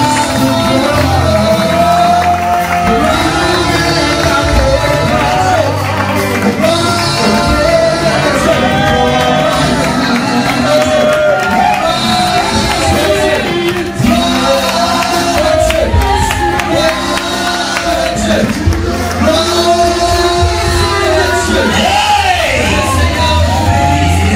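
Loud, sustained shouting and cheering from a crowded congregation at a wedding sermon, voices layered over each other with rhythmic bursts of acclamation throughout.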